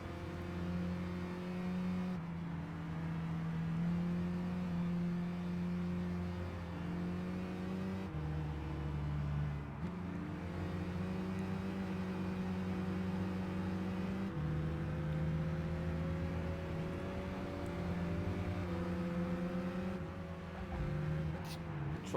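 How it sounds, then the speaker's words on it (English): Race car engines from the Gran Turismo 5 video game, a Mitsubishi Lancer and a Mazda Atenza among them, drone steadily with shifting pitch as they rev and change gears, under occasional talk. "That car sounds so bad!"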